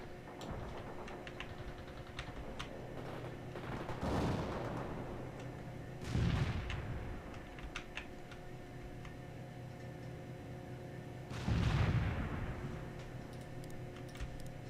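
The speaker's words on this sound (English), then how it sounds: "firing mortars. The barrage will reach you soon." A mortar barrage in the World in Conflict strategy game, with three heavy booms landing seconds apart over a ticking, rumbling battlefield bed.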